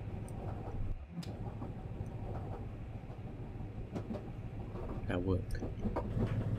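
A train rumbles along steadily in the video game Fear Equation, a continuous low rolling drone with scattered clicks and rattles. Someone talks over it.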